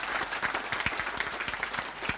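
Broad clapping from a crowded audience at a live Kenyan televised national event, a dense steady round of applause lasting throughout with no pauses.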